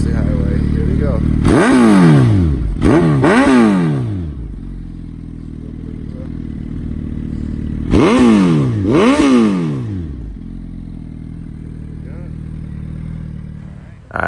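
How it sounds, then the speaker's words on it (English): A 2015 Suzuki Hayabusa GSX1300R with a Yoshimura full exhaust revved twice in quick pairs of sharp, loud blips, then settling back to a deep, steady idle, close up with no talk. "The bike is equipped with Angel Pirelli tires and the Yoshimura exhaust. It is a full exhaust."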